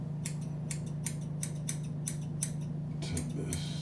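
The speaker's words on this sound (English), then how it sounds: "I want to go get my other pair of scissors, my little pair of scissors." Small scissors snip in a quick, steady rhythm of crisp metallic cuts, close to the microphone over a constant low hum.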